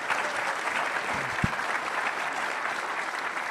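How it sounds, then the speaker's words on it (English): An audience applauding panel members at a military forum, a steady sustained clapping that fills the whole stretch, with one brief thump partway through. "Let's have another round of our applause for our panel members up here."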